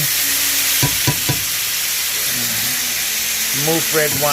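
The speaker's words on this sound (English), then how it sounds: "Now we're going to add some of this in there. It's a little mixture of vermouth, red wine," A vermouth and red wine mixture hits a hot pan over lowered flame, a steady bright sizzle and hiss running throughout while someone talks over it and a few clinks sound.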